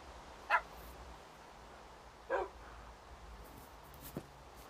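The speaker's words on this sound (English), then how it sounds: "So, two pink collar dogs." Dogs in Minecraft Pocket Edition give two short barks and then a faint third yip, spaced apart over quiet game ambience.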